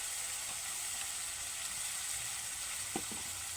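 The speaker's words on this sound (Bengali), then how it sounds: "প্রথমেই তেলের মধ্যে দিয়ে দেব পেঁয়াজ বাটা" Onion paste frying in oil for a prawn curry, giving a steady, even sizzle throughout with a couple of faint clicks near the end and no voices.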